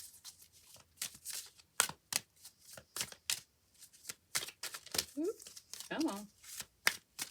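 Tarot cards being shuffled by hand in quick, crisp bursts of riffling and slapping, with a voice talking softly between and over the shuffles.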